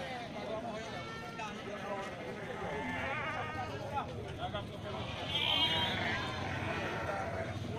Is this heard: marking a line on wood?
no